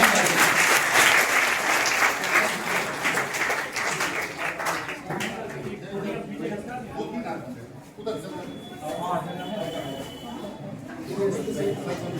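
A crowd applauds at a block-level school quiz competition prize ceremony, with dense, loud clapping for about five seconds before it fades under someone speaking.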